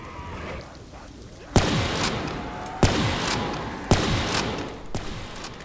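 Sniper rifle fire in Black Ops 3 Zombies, four loud, sharp shots spaced about a second apart, each trailing off into a ringing decay over a low background din, with no talking.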